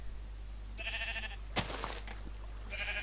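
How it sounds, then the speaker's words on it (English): Sheep in the Minecraft-based game Hexxit bleat twice in short, nasal calls, separated by a sharp click-like thud over a low background hum. "Sheeps!"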